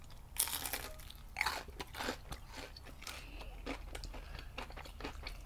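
Bites into crunchy fried shrimp, heard close up as several sharp, crackly crunches followed by softer chewing, quiet and intimate with no talking.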